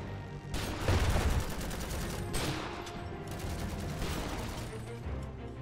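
Gunfire in the Iron Harvest video game, dense crackling bursts of machine-gun and rifle fire that continue for several seconds at moderate loudness, with no talking over them.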